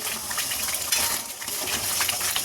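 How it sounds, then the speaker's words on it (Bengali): Spice masala being sautéed in a pan for chicken kofta curry, a steady close sizzle with scraping stirs and light utensil clinks running the whole time, no talking. "মশলাটা এখানে কষাচ্ছি"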